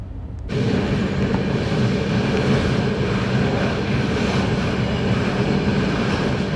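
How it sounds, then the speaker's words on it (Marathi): The 12167 LTT Banaras SF Express running out of Kasara with banker locomotives attached, a loud steady rolling roar of wheels and carriages that starts abruptly and continues unbroken. "तर कसाऱ्यावरून बँकर्स लावून आपली ट्रेन निघालेली आहे."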